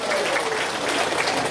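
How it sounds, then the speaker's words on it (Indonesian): A crowd at an Islamic religious gathering applauds for the organizing committee, a brief dense burst of clapping filling the space. "Tepuk tangan dulu dong buat panitianya"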